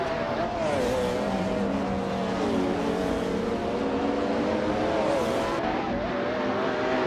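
Race cars scream around a track in a racing video game, their high engine whine rising and falling as gears shift, steady and loud throughout with a brief squeal near the end and no voices.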